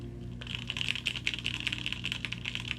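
Rapid, steady typing on a Quarkeys Z67 mechanical keyboard with a carbon fiber plate and Gateron KS-9 switches, soft muted clacks in a quick continuous stream, close up and fairly quiet, with no speech.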